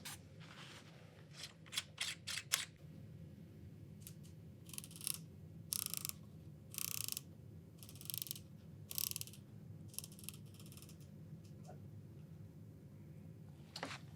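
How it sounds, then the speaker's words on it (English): Turret clicks as a Crossfire II crossbow scope is dialed down: a run of crisp ratcheting clicks, first in a quick cluster, then in spaced bursts over a quiet, steady hum. "dial the turret down so we can visually watch the reticle move up to the impact"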